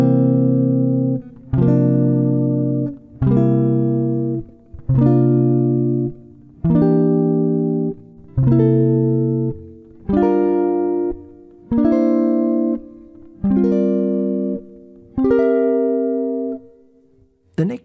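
Jazz guitar plays C dominant seventh bebop scale material, nine evenly spaced ringing notes or chords, each struck cleanly and left to sustain before the next, alone and close.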